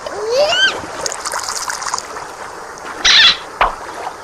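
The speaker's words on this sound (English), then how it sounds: "Let's put the sea lion back in the water." A toy sea lion drops into water with a short, bright splash near the end, after a voice and light splashing and sloshing earlier on.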